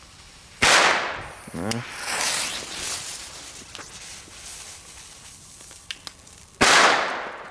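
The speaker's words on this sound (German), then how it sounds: "das ist jetzt nicht so die überkrassen Böller" Two sharp, loud bangs from a Vipper 1 New Year's Eve firecracker burst several seconds apart outdoors, with a brief voice and scattered crackles and clicks between them.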